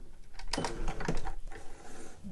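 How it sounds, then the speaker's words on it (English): A home sewing machine runs a couple of short stitching bursts on the end of the binding of a trouser waistband. The close mechanical whirring rises and falls briefly, with no voices. "I'll just do a couple of stitches at the end there."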